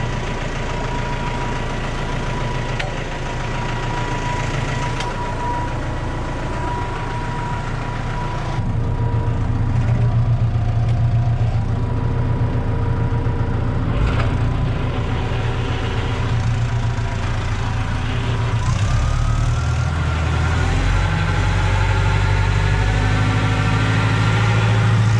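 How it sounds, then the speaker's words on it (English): An NC Super 3000 slurry agitator runs behind a tractor while mixing slurry, giving a continuous loud mechanical drone with a low engine rumble that grows heavier partway through, and no talk. "That's an NC Super 3000. Great agitator, works lovely behind this tractor."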